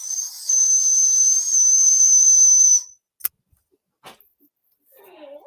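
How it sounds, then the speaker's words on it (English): A loud human whistle held on one steady, piercing high pitch for nearly three seconds, used to call a child from a distance. Silence follows, broken by a couple of faint clicks and a brief soft murmur. "I had to learn how to call my son from remote distances with just a whistle."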